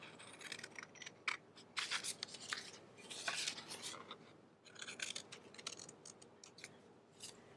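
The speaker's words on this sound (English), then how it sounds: "then I'm going to trim it out" Scissors trimming a paper cutout for a collage, making quiet, close, irregular snips and crisp paper rustles in quick bursts, with short pauses between cuts and no voices.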